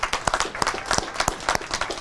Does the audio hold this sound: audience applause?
yes